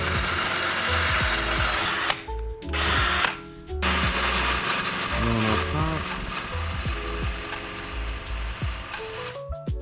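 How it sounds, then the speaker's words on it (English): A power drill bores through a car bumper during a quick crash repair, loud and close, running in long steady bursts with two short pauses early on and a brief stop at the end. "we're gonna drill through here to make that fit"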